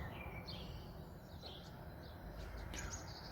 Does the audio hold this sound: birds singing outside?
yes